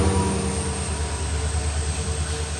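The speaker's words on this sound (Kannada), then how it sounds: "ನನ್ನ ಮುಂದೆನೇ ಟ್ರೈನ್ ಹೋಗ್ತಾ ಇದೆ" A train rolls past on the railway track right in front of a trekker on the Dudhsagar route, a loud, continuous close-up rumble and clatter with no voices.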